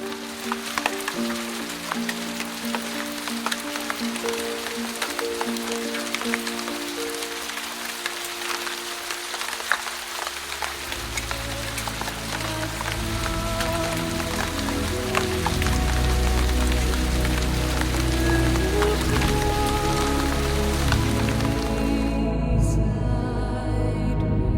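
Steady rain falls on calm Sandfly Lake along the Churchill River, a dense, even hiss of drops that holds constant throughout with a low rumble underneath.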